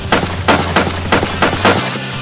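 Rapid bursts of gunfire ring out, about six sharp, loud volleys in an uneven rhythm over a low steady hum, with no voices.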